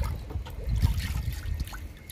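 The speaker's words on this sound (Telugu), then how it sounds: "మనం మొక్కకి తిరగబోయాలండి లిక్విడ్ని." Liquid fertilizer poured around the base of a potted plant, heard as a soft, continuous trickle and dribble close by, low and steady with no talk.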